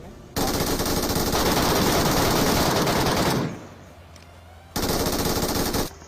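Sustained automatic gunfire from a BGMI firefight, loud and dense for about three seconds, then a brief lull with faint background before another close burst of rapid fire.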